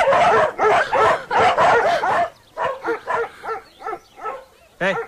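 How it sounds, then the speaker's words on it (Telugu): Dogs barking in a Telugu feature film scene: loud, rapid volleys of barks at first, then a slower run of separate yips and barks, close and with no talk over them. "మా కుక్కలు కూడా మీరు నచ్చలేదు, అందుకని అరుస్తున్నాయి."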